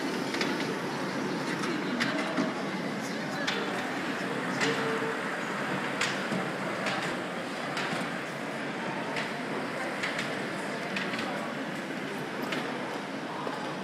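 Steady rumble of a train ride, with rhythmic clickety-clack of wheels over rail joints running continuously at moderate volume throughout.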